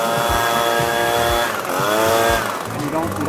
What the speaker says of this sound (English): See how much power this blower has when I lift up this heavy rubber floor mat with the air.